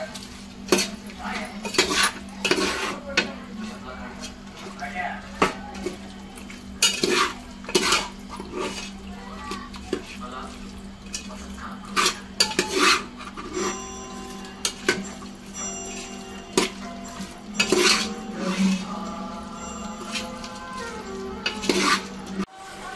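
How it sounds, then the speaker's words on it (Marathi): A spoon works biryani masala through a pot for homemade junglee chicken biryani, giving repeated metallic clanks and scrapes against the pot in irregular bursts over a low background hum with a faint sizzle. "मस्त मिश्रण एकजीव करून घेते सगळं"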